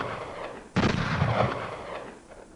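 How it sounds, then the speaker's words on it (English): A rifle fires outdoors: one sudden, heavy booming bang with a long rumbling tail that slowly fades, with no talking. "2 thunderous bangs from the rifle rang out."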